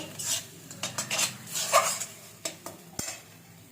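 A spoon scrapes and clatters against a pan while spice paste is stirred and fried for a stuffed pointed-gourd dish, with irregular metallic knocks, one sharper clank near the end, and a faint sizzle underneath.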